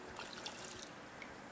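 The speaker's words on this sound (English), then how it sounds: "you wanna add maybe a half cup of, like a cup like this, of cold water" Cold water pouring from a cup into a pot of boiling water while making mangu, a short, steady trickling splash close by with no talk.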